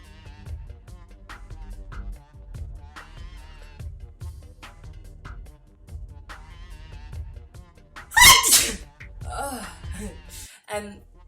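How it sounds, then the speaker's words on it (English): A single sudden sneeze from a person, a sharp loud burst breaking into quiet speech, followed by a brief sniff and a pause. "I'm going to sneeze."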